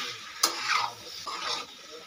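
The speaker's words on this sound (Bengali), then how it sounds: "টমেটো খুব ভালো করে মিশিয়ে নেব।" Tomatoes get stirred into a dry, spicy yardlong bean and potato curry frying in a pan, with two quick scraping strokes over a soft, close sizzle.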